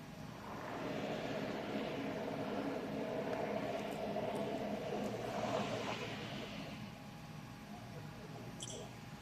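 Helicopter hovering over a housing protest in Philadelphia, a steady low rotor and engine drone with a faint background hum, no voices.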